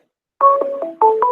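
Telephone keypad tones sound as a call is placed, a quick run of about five loud, clean touch-tone beeps close up after a brief silence.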